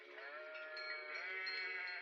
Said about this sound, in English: you maybe hear the sheep on the side of the road